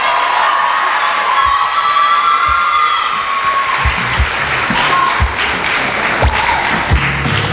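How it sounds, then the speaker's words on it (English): Crowd at a Mr. and Miss pageant applauding Mr. and Miss Congeniality, loud sustained clapping mixed with cheers, whoops and children's shouts, with thumping taps scattered through the second half. "Give them a round of applause, ladies and gentlemen."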